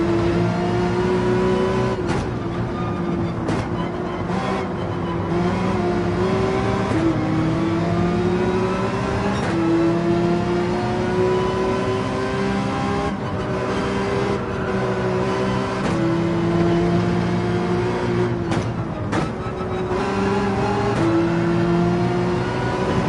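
Race cars lapping Spa in Gran Turismo 7, a continuous loud engine drone that climbs in pitch through each gear, with sharp gear-shift breaks and repeated upshifts over about twenty seconds.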